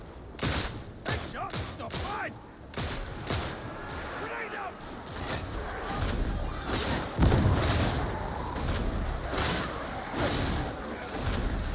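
Gunfire and booming blasts rattle through a Darktide firefight, with a heavier grenade explosion rising among dense, rapid shots while voices call out over the battle noise.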